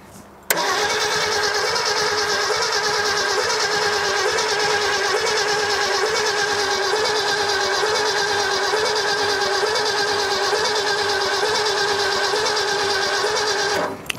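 A 1965 Ford F100 engine, long buried and forgotten, cranking steadily with the starter whirring and a rhythmic, sputtering chug as it spits back through the carburetor, loud, close and continuous for about fourteen seconds before cutting off.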